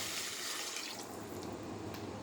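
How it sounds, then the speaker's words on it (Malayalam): Hot boiled water poured into a pot of ragi-vegetable soup, a continuous close splashing pour, faint and steady for a couple of seconds with no talk. "തിളച്ച വെള്ളം ചേർത്ത്"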